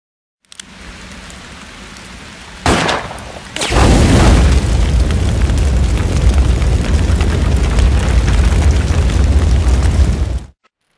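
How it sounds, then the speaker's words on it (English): A gunshot sets a fire explosion alight in the PS4 survival horror game Forbidden Siren: a sharp burst, then a loud booming blast rolls into a sustained roaring rumble that lasts several seconds before cutting off. "Now let's set this fucker ablaze with one shot of our gun."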